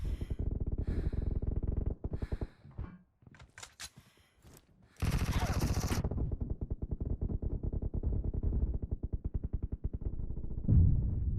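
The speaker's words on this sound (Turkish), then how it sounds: "Bayağı seri bir silah." A P90 submachine gun in PUBG Mobile fires rapid bursts, pauses briefly, then lets off a long unbroken stream of fast shots, loud and close.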